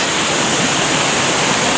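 River water rushes loudly and steadily at close range, a dense broadband roar of flowing current at Mariano River in Cavite with no other sounds.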